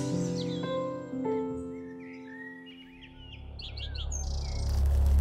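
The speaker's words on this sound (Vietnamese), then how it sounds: "Có chim sẻ đến. Chim sẻ đến đấy." Small birds chirp in a cartoon, bright tweets arriving in quick overlapping bursts in the middle of the scene, after a held musical score fades and before a low rumble swells.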